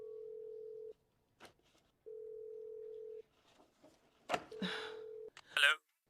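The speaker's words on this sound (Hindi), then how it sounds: "फोन उठाओ।" A telephone in a Hindi cartoon rings with a steady buzzing tone, in three long pulses separated by gaps, with brief breaths and vocal sounds in between.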